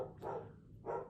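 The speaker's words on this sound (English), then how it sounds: "You can hear my dog barking in the background in agreement." A dog barks twice in the background, soft and distant, with a short pause between the two barks.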